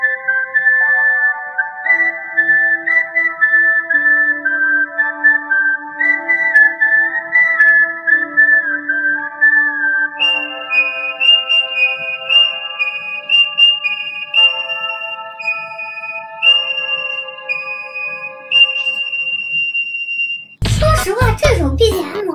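A slow, eerie whistled melody carries the background music of a late-night horror challenge game, steady sustained notes shifting in pitch, ending in a sudden loud burst of noise.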